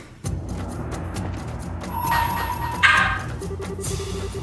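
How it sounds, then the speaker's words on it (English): A dog barks in the background in a few short yips under a busy mix of video game sound and music, faint and intermittent rather than up close. "Sorry if you hear the dog barking in the background."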